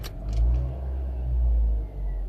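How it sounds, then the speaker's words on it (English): A 2003 Toyota RAV4 second-generation engine turns over and catches, settling into a low, steady idle rumble with a brief swell, heard close with no talk. "We can start it up now. This car always starts up the same as you expect with Toyota."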